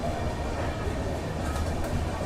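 The Bokaro Express pulls out of Bapatla station as a steady, dense low rumble of rolling rail cars, heard close and constant.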